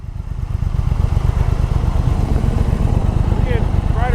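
A Triumph motorcycle on a demo ride, its engine a loud, steady throbbing rumble that holds through the whole stretch, with wind noise and a brief whistle-like chirp near the end.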